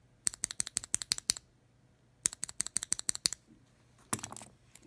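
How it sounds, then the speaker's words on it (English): A Gateron Merlot keyboard switch fitted with a PBT keycap, pressed in two quick bursts of crisp, muted clicks at close range, followed by a brief rustle of handling. "I'm gonna put another PBT steps keycap on this and see if I can compare directly"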